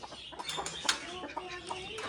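Aseel chickens, a rooster and hens, cluck softly in a low, steady murmur, with a few sharper calls standing out, close by and fairly quiet.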